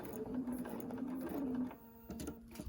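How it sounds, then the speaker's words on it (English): A sewing machine stitching short tacking stitches on quilt fabric, a close mechanical whirr that runs steadily, then breaks into a few brief bursts. "Do my tacking stitches."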